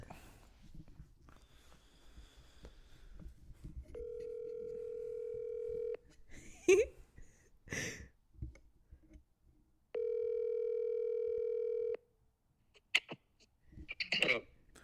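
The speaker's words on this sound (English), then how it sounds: "I'll call Austin. Let's phone another friend." A telephone call rings out on the line: two steady, loud ringback tones, each about two seconds long and separated by a pause, with brief clicks and faint rustling between them.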